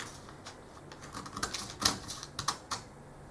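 Scissors cutting through folded fabric along a fold line, heard as a quick series of crisp, close snips over a few seconds.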